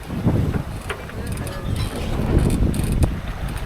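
Strong wind aboard a sailboat making good speed in rough, lumpy Baja seas, heard as loud buffeting rumble across the microphone with creaks and rigging noises, close and continuous for a few seconds.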